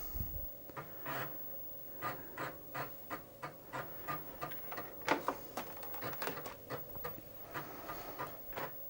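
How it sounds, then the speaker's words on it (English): An Amiga floppy disk drive runs with a steady series of dry clicking seek ticks, roughly one or two per second over a faint mechanical hum, close and fairly quiet. "And the floppy disk is still doing its thing."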